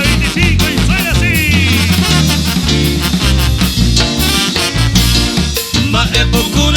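A band plays a loud, dense live set at Cherekoitepe 2023, with brass melody lines over driving bass and percussion, full-bodied and continuous throughout with no voices.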